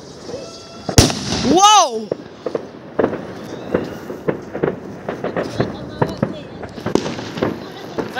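New Year fireworks are set off outdoors: a sharp bang, then a whistling rising streak, then a run of scattered pops and crackles at middle distance, while people chat and one exclaims.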